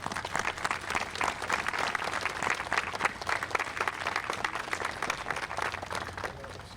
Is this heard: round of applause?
yes